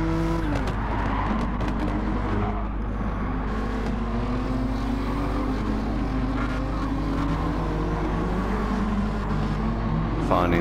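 Race car engines in Gran Turismo 7 at Grand Valley roar continuously and loudly, with a rising and falling engine whine as the cars accelerate and shift. A person talks over the engines in places.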